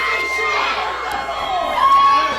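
Wrestling arena crowd roaring and cheering steadily throughout, a dense wash of shouts and whoops that swells slightly near the end.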